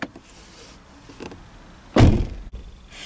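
The door of an MG 5 EV electric estate shuts with one firm thunk, followed by a brief buzzing rattle. Quieter handling knocks come before it, all close up with no speech.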